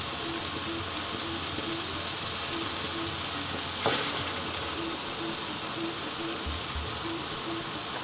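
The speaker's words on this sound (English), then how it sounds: "Now we're going to add 4 ladles of base gravy." Base gravy for a restaurant-style mirchi chicken bhuna hits a hot pan, setting off a loud, steady sizzle and hiss that runs unbroken throughout, with a brief splash-like burst midway and no talking.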